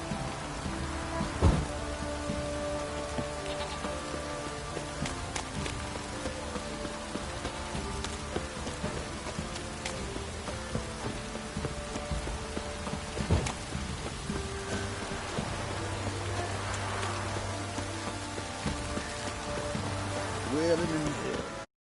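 Steady rainfall in the video game The Witcher 3: Wild Hunt patters throughout, a dense continuous hiss with scattered droplet ticks and a low rumble underneath, alongside layered background tones.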